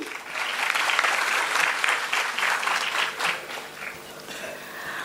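An audience at an international conference on intelligent and sustainable innovation applauds warmly, the clapping full and steady at first, then thinning and fading over the final seconds.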